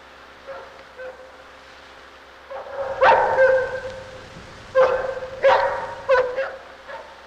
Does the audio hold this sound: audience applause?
no